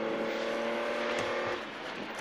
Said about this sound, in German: Auf eigens abgesperrten Teilstücken lassen es die Fahrer der Motorsport-Oldtimer ordentlich krachen.